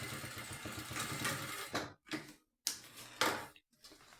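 A sewing machine restitches a seam on a fabric case, running in short, loud motorized bursts separated by brief silent pauses.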